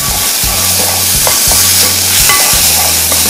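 Carrots cooking slowly in ghee, a dense steady sizzle under a repeating low mechanical drone, with a few faint stirring clicks in the pan.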